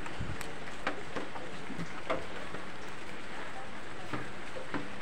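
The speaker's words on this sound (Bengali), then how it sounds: "বাইরে বৃষ্টি হচ্ছে" Steady, soft rain patters continuously in the background, with faint scattered drops and ticks and no clear voices.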